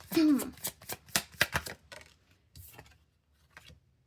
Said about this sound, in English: Okay, let me shuffle these cards.